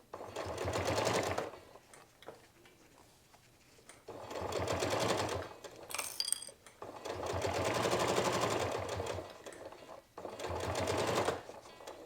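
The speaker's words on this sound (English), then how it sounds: "I put it under here, and I start stitching" A sewing machine stitches a fabric loop garland in steady, rapid runs of a few seconds each. The runs are separated by short pauses with faint handling clicks, and the machine sounds close and moderately loud.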